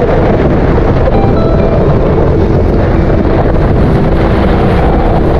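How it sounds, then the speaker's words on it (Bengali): Strong wind roars across a sea beach at night and buffets the microphone with a loud, constant, dense rumble that has no pauses, and no one speaks. "প্রচন্ড বাতাস, বিকেলবেলা এর থেকে কম ছিল বাতাস"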